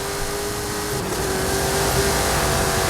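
Race car engine in a racing video game, accelerating with a steady, loud, continuous engine drone and rising pitch, no talking over it.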